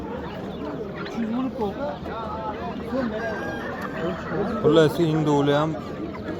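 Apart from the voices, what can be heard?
chickens clucking at a poultry market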